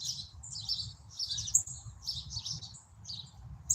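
Morning birdsong outdoors, a steady run of high chirps and tweets from several birds at moderate distance, with a low rumble of background noise underneath.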